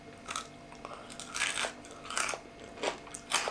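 Crisp bites and chewing of a chocolate-coated chickpea snack, close up, with about half a dozen distinct crunches spaced irregularly over quiet background, no talking.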